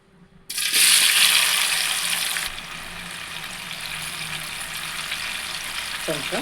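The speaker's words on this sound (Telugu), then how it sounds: "ఆయిల్ బాగా హీట్ అయిన తర్వాత టమాటాలు వేసుకోవాలి." Tomatoes dropped into hot oil in a pan burst into a loud sizzle, which settles after a couple of seconds into a steady, softer frying hiss.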